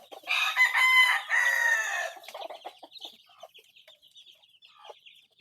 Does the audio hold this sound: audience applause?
no